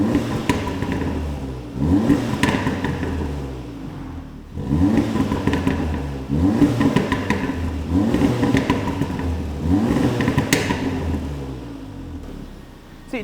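An Audi S3 8V with a stock back box and exhaust valves coded permanently open revs repeatedly, four loud throaty bursts rising and falling in a steady rhythm, each followed by a brief dip, with no talking.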